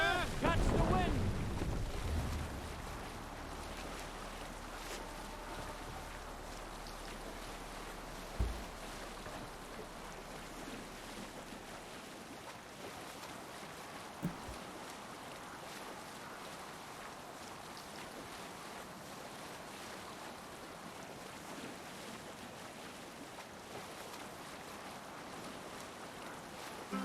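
A ship sails across ocean waves in Assassin's Creed Valhalla, giving a continuous, fairly quiet wash of wind and water that holds steady throughout, broken only by a couple of brief thuds.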